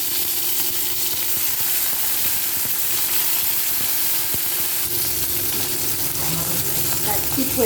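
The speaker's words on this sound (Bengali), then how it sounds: "এরপর আমি কড়াইতে তেল দিয়ে পাতাগুলো ভেজে নেব।" Bottle gourd leaf parcels fry in oil in a wok, giving a dense, steady hiss that stays loud and even throughout, with a few faint clicks.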